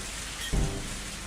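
Rain falls steadily in the Higurashi video game, a constant broad hiss with a brief low rumble of thunder partway through.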